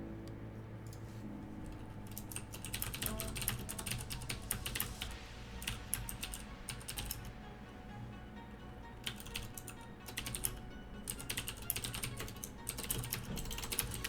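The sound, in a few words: typing on a computer keyboard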